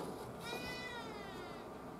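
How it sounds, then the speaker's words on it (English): A cat gives a single faint meow over a low, steady background hum, the call rising and falling briefly in the middle of the short stretch. "What you meowing about, little kitty?"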